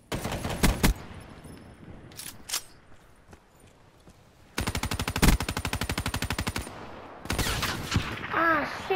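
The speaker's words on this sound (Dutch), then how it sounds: "ik was gewoon random aan het schieten" Gunfire in a Call of Duty gun game match: a few sharp shots, then a sustained rapid automatic burst and more short volleys, loud and close.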